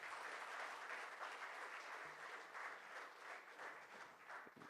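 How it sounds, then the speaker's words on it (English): Steady applause from a large audience at a graduation ceremony, continuous clapping throughout at moderate distance. "All the graduates, give a round of applause."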